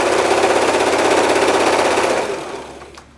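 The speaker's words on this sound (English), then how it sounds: "And I'm going to sew it at what is a scant 1/4 inch on my machine." A sewing machine stitches a scant quarter-inch seam through chenille fabric, a fast steady mechanical whir that runs continuously, then slows and stops near the end.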